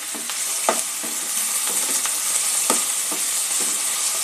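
Potatoes frying in a pan over a medium-low flame for a sponge gourd shukto, a steady close sizzle with a few soft scrapes and knocks of stirring, no voices.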